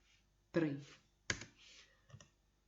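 A computer mouse clicks a few times while cells are selected in a spreadsheet program. The sharp, sparse clicks are mixed with soft talking at a low level.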